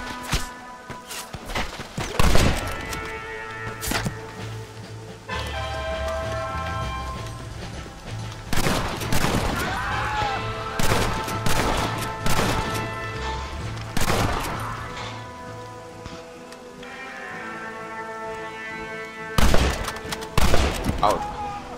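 Gunfire in the video game Red Dead Redemption, a string of sharp loud shots and bursts scattered across the stretch, some clustered in quick volleys, with a voice talking between and over them.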